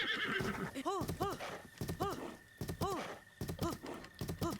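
A horse in The Legend of Zelda: Breath of the Wild neighs and whinnies repeatedly while hooves clip-clop, with someone talking over the animal sounds.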